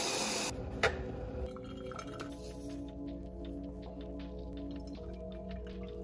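Coffee is poured into a glass vessel, with a clink at the start followed by a steady, quiet trickle of liquid that continues to the end.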